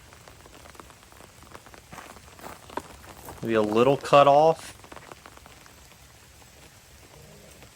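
Steady light drizzle patters across a disc golf course during a spring tournament round, a soft continuous hiss that runs the whole way while someone briefly speaks near the middle.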